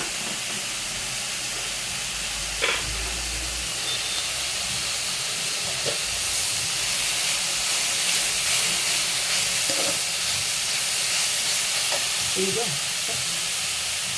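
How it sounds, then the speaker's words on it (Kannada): Dill leaves and field beans frying in oil with a little turmeric for a Karnataka palya: a constant close hiss and sizzle runs throughout, broken by a few soft clinks and stirring knocks. "ಸೊಪ್ಪು ಚೆನ್ನಾಗೆ ಎಣ್ಣೆ ಒಳಗೆ ಚೆನ್ನಾಗಿ ಫ್ರೈ ಅದು"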